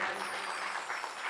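An audience at a Bhagavat katha gathering claps loudly, a dense, continuous burst of applause from many hands.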